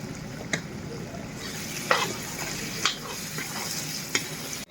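Potatoes seasoned with salt, turmeric and cumin fry in a pan under a steady sizzle, with several sharp scrapes and knocks as they are stirred.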